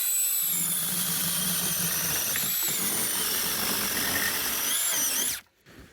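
A battery-operated mini chainsaw cuts through firewood into chunks with a close, high-pitched electric whine that holds steady, dips slightly as the chain bites, then stops abruptly near the end.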